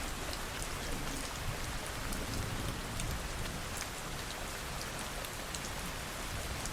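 Steady rain falls without a break, a dense hiss of drops striking a surface close by. No voices.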